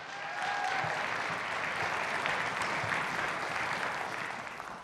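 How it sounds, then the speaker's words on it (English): Audience applauding student musicians at a high school concert, a steady dense wash of clapping lasting several seconds at moderate volume before easing slightly at the end. "let's give another round of applause for these kids"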